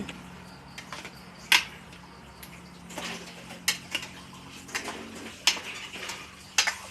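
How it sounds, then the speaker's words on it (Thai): A spoon stirs a boiling pot of bitter melon soup. It makes scattered sharp clinks and scrapes against the metal over a low, steady bubbling hum, all close by and with no voices. "เพื่อนๆเริ่มเดือดแล้วเราก็คน"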